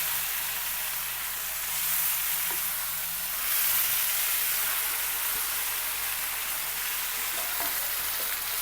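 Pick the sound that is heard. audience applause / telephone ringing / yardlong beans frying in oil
yardlong beans frying in oil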